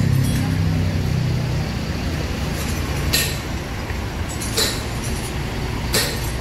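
A Hino Euro 4 intercity bus idles steadily in a crowded bus parking area, its deep engine and exhaust rumble continuous and close, with a few hissing bursts of air over the drone.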